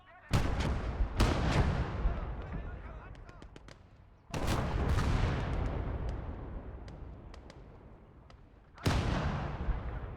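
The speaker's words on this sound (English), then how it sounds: "They're bringing Katusha now. Damn rockets." Katyusha rocket artillery fires in the Gates of Hell war game: several loud, sharp launch blasts, each with a long roaring rumble that fades, the bursts spaced a few seconds apart.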